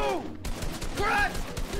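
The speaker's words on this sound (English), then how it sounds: "It didn't even sound like you were shooting that close." Gunfire from the video game Fortnite during a 1v1 match, a burst of quick shots that sounds fairly distant and muffled, with game effects layered over it.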